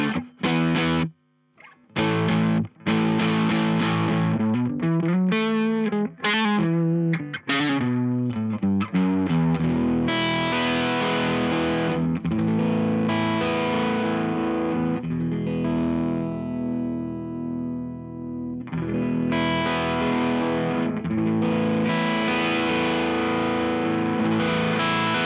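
Electric guitar through a Toneconcepts Distillery overdrive pedal with a gritty tone, first in choppy bursts and then longer ringing chords and riffs, loud and close, with no talking.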